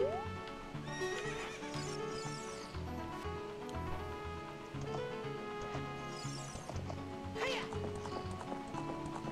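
Game horse in The Legend of Zelda: Ocarina of Time galloping with rhythmic clip-clop hooves and repeated whinnying neighs over background music, with a voice talking at points.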